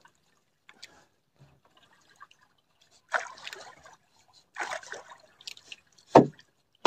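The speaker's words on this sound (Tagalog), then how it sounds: "Malaki din pala talaga ang butas na ito. Yan o, sobrang lakas ng tulo." Soft, irregular trickling and splashing of water leaking through a hole in a boat, a few separate gushes and drips close by, with quiet pauses in between.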